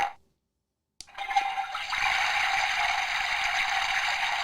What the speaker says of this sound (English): Toilet flushing.